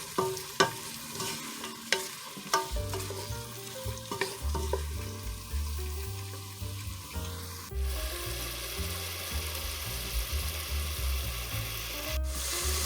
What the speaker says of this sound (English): And we're going to let that saute for 5 minutes. You want to mix it around real good.